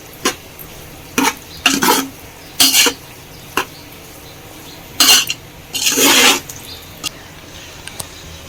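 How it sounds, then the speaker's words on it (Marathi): Cooked rice for prawn pulao is mixed in a pot, with a series of separate scraping and clattering bursts from a spoon against the metal, some brief and some lasting longer, and quiet gaps between them. "चांगला व्यवस्थित मिक्स करून घ्यायचा राईस"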